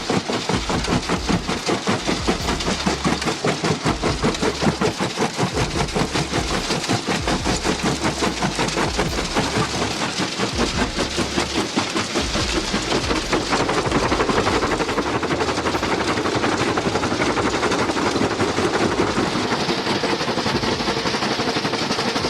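An industrial jaw crusher, the TBG 530, crushes solid rock into gravel with a loud, continuous rapid pounding and grinding that holds steady throughout and has no talk over it.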